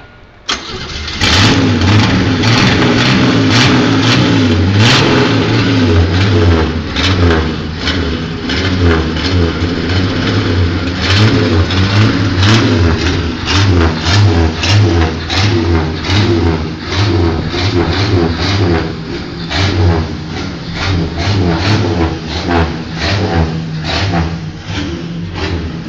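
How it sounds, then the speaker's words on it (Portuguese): A red 1977 Puma GTB whose engine is flooding slightly cranks into life, then revs and idles unevenly. Its throaty mid-range note pulses and rises close by for a long stretch, with no voices over it. "E o motor? Tá afogando um pouquinho."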